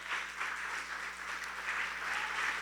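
A church congregation claps in a dense, steady applause that fills the room for the whole stretch, moderately loud and even, with no voice on top.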